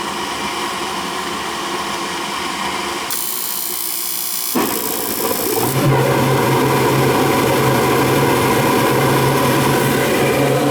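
A new 80+ gas furnace lights and runs: a steady blower hum, an abrupt change as the burner ignites, then a louder, fuller roar with a low steady drone continuing to the end.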